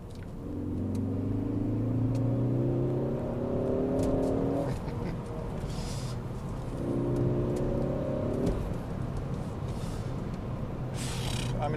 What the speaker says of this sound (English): So, can I demonstrate some torque steer for you?